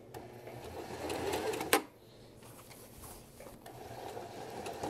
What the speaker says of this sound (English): We're gonna back stitch at the very top